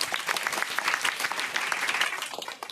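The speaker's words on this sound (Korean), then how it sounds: "박수로 맞아주십시오." An audience claps to welcome a speaker onto the stage at a youth forum, a brisk, continuous round of applause that fills the room at moderate volume.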